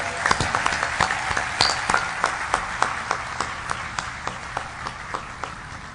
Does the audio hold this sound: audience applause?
yes